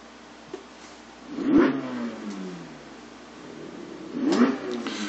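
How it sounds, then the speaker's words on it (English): A car engine in the iRacing sim cranks over and catches, with two loud swelling revs a few seconds apart over a steady low hum; no talking. "So let's start the car."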